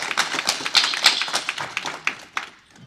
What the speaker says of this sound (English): Let's give Chris and Aaron Knowles a round of applause.